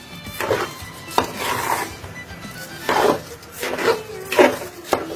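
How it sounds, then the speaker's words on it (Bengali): Pulao rice fried in a pot and stirred with a spatula, giving repeated scraping sweeps broken by sharp knocks against the pot, close and moderately loud. "আমরা এখন পোলাও চালটাকে ভালো করে ভাজবো"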